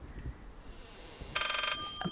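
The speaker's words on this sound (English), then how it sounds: "The phone's irritating me." A telephone rings in the horror video game Layers of Fear, a short electronic ringing burst of about half a second, fairly faint against quiet background ambience.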